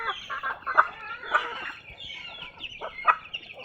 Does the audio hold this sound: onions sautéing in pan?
no